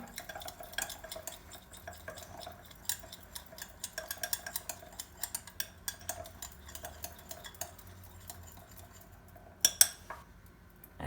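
A spoon stirs lemon juice into a fish sauce for oven-baked sea bream, scraping and tapping against a bowl in quick, uneven clicks, close and fairly quiet, with a brief sharper clatter near the end.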